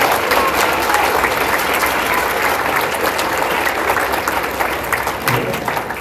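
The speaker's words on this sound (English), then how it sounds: "So give them a round of applause for that." Sustained audience applause fills a school band concert hall, a steady dense wash of clapping that holds at full strength and tapers only slightly toward the end.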